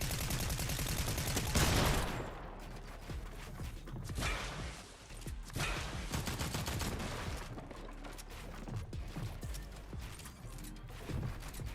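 Rapid bursts of gunfire from a Fortnite match, a player firing through built structures; dense, loud cracks and volleys fill the whole stretch with a heavier blast early on, with no voices.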